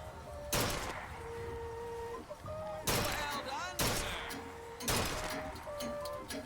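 Gunshots at a shooting gallery in BioShock Infinite: four sharp, loud reports spaced about a second apart, each with a short ringing tail, over quieter game sounds and occasional talking.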